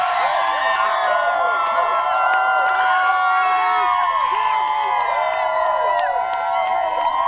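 A crowd of fans at an airport cheers and shouts continuously, with whoops and children's voices mixed into a dense, steady roar with no pauses.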